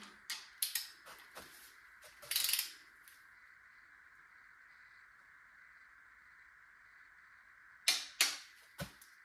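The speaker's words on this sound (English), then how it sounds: "Now we are going to tighten the intake on 1, 3, 4, and 5." Rocker arm bolts on the intake side of a 5.3 engine are tightened to torque, giving sharp metallic clicks and ratchet bursts in scattered clusters over a faint steady hum, with no talk.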